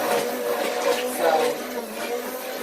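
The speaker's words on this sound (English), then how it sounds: "Now I can go to blending these colors." Close electric blender whirring while mixing colors for peppermint cold process soap, a steady loud motor hum with slight surges and no speech.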